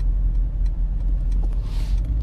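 Stationary and crawling cars in a heavy Moscow-area traffic jam near Molodogvardeyskaya Street, a steady low engine rumble with faint ticking and light passing vehicle noise, no talking.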